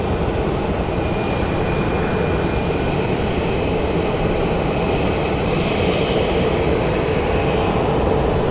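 An ABX Boeing 767 rolls out after landing at Phoenix Sky Harbor Airport, its steady broadband engine roar loud and unbroken throughout.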